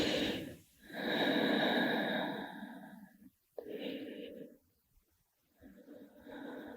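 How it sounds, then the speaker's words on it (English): Slow, deep yoga breaths: long drawn inhales and exhales, each lasting a couple of seconds, separated by short silent pauses, close and fairly soft. "Take some long deep breaths."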